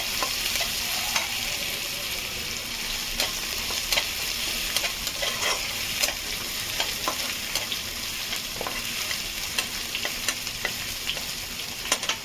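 Garlic frying in a pan for chilli chicken fried rice, a steady close hiss and sizzle with scattered light clicks and scrapes of stirring throughout, no voices.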